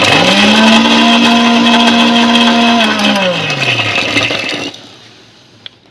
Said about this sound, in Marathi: आता हे मिक्सरमध्ये बारीक करते